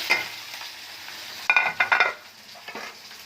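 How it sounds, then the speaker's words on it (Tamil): Brinjal, shrimp, onion, masala, salt and curry leaves tempered in a pan, with a soft sizzle and a few sharp bursts of stirring and spoon-against-pan scrapes, close and fairly quiet. "கத்திரிக்காய், இறால், வெங்காயம், மசாலா, உப்பு, அதுக்கப்புறம் கருவேப்பிலை எல்லாம் போட்டு தாளித்து வச்சுருக்கேன்"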